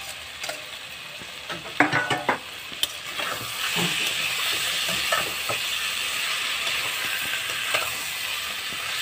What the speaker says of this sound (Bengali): এবার দেবো ভেজে রাখা আলুটা, দিয়ে একটু কষিয়ে নিয়ে জল দিয়ে দেবো।